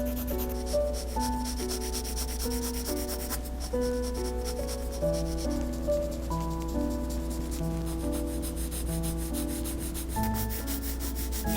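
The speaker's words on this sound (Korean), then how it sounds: "진하게 칠하고 안쪽으로 연하게 풀고 있어요." A Prismacolor colored pencil rubs across paper in repeated scratchy strokes while shading an apple, a soft rasping texture that runs under gentle background music.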